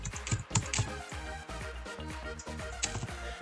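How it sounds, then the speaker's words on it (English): Quick, uneven clicking of computer keys, a run of light taps typed at close range with no voices. "you click on plus table and you start typing in these values"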